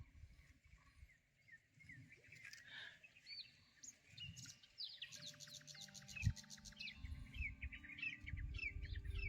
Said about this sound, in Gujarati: પક્ષીઓનો અવાજ પણ મસ્ત સંભળાય સવાર સવારમાં